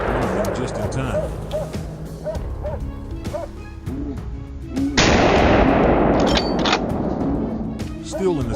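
Gunfire rings out during a wild boar hunt, several sharp shots amid barking dogs and a sudden loud broadband burst partway through, with people talking over it.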